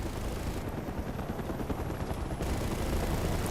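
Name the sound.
helicopter in Mercenaries 2: World in Flames video game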